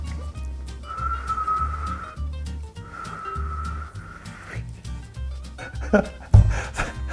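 A sustained whistled tone held twice for over a second each, triggering a bug in Sony WF-1000XM4 earbuds, with a steady low hum underneath and a few sharp knocks near the end.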